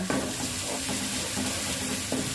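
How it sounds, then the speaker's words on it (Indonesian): Spice paste for sweet-spicy tempe, anchovy and peanut kering fries in a pan, a loud, even sizzle with a few light clicks of a utensil stirring. "sekarang saya tumis terlebih dahulu ini bumbunya"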